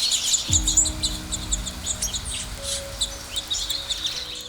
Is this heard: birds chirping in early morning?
yes